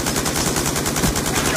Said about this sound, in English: I'm taking my LMG out and see if I get any more kills with it